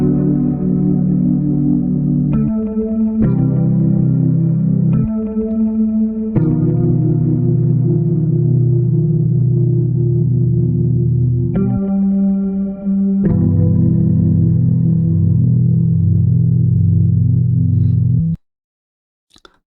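Witch Pig Kontakt virtual guitar instrument played on its rear pickup setting, heavily processed with chorus and distortion-like effects: sustained loud chords changing every few seconds, sounding synth-like rather than guitar-like, stopping abruptly near the end.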